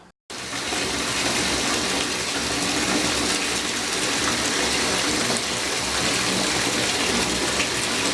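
Bath water gushes steadily from a tap into a tub, a dense continuous rushing splash that starts abruptly after a brief silence and holds at an even, fairly loud level throughout.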